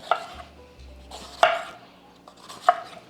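A knife chops a red pepper on a cutting board in three distinct, sharp strokes about a second apart, close and clear in a quiet kitchen.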